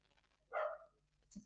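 A dog gives a single short bark, moderately close and fairly quiet, in an indoor room, followed by a brief faint thump.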